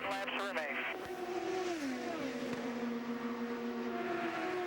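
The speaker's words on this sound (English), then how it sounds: "They battle through the 3rd and 4th corners, and Kanaan gets the lead" IndyCar race cars scream around Iowa Speedway during a 2012 Iowa Corn Indy 250 qualifying heat race, their high engine whine falling as they pass, under continuous commentary.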